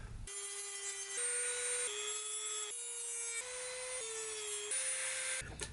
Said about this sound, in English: When you Dremel plastic like this, it just kind of melts.